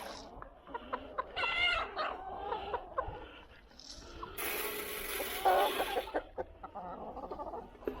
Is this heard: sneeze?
no